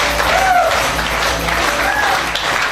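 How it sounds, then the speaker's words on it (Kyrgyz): Audience applause at a New Year's party in Naryn, Kyrgyzstan: steady clapping from a crowd that holds evenly for about three seconds, with faint voices mixed in. "бир кол чабып коелучу"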